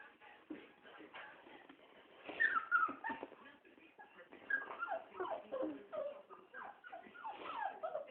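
A puppy whimpers and yips in a quiet indoor space, giving a string of thin, high whines and short cries over soft shuffling, fairly close and faint.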